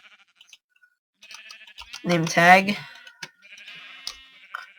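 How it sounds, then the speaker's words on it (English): A cyan sheep in a Minecraft modpack gives a single drawn-out wavering bleat, clear and close, with faint game clicks and sounds before and after. "Merba is a cyan sheep"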